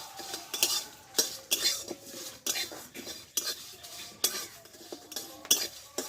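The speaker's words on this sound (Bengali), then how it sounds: "মশলাটা আমি খুব কড়া করে ভাজবো না আমি হালকা করে ভেজে নেবো একটু" Black mustard seeds and bay leaves fry lightly in a pan for Bengali tomato pickle, heard as a spoon repeatedly scraping and clinking against the pan over a faint sizzle, close and without talk.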